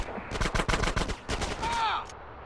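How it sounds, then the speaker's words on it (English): Rapid gunfire in the video game GTA San Andreas, a dense volley of sharp shots fired in quick succession, loud and close, ending with a short whine. "Shoot the crates. Please shoot the dudes."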